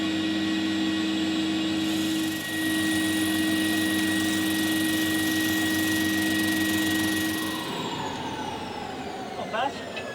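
A drum sander thicknesses wood for an acoustic guitar's back braces, running with a loud, steady droning whine and hum that shifts pitch as the piece feeds through and then winds down.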